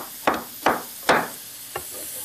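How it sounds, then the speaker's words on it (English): Four distinct knife chops through pineapple into chunks on a board, close and crisp with short decaying thuds spaced unevenly, the last one softer, no voices. "you've got a beautiful piece of pineapple that you can now cut into nice chunks"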